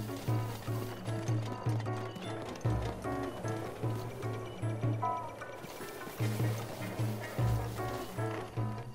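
Horse galloping in the video game The Legend of Zelda: Breath of the Wild, a steady rhythmic run of hoofbeats under busy game music and effects, at moderate loudness.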